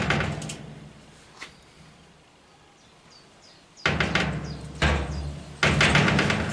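On a Citroën Traction 11B under restoration, a car door is pushed shut and worked into place, giving a few hollow knocks and thuds, then louder clunks and rattles in two bursts near the end, close and without talk.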